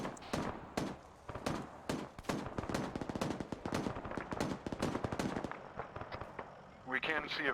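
Friendly soldiers in a military game fire in rapid, dense bursts of close and distant gunshots, crackling almost continuously for several seconds before thinning out, with radio chatter in the mix.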